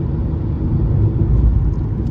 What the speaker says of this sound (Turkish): Ega'yla rampa çıkıp aynı zamanda viraj alıyoruz.